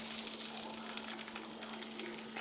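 A steak sizzles steadily in a pan of hot oil and melted butter, giving a constant, close hiss of frying with no talking over it.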